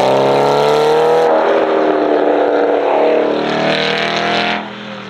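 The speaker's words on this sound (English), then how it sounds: "Oh, that titanium exhaust just wanting to sing his favorite song." The titanium exhaust of an Aston Martin Vantage GT8 roars loud and close, holding a sustained high-revving howl that shifts pitch, then drops off sharply near the end.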